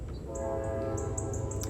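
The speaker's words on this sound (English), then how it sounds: "I know you guys can hear my train in the background." A train passes in the background during an indoor polymer clay and mini dessert crafting session, a steady low rumble with faint high squeals and tonal horn-like whines, no talk over it.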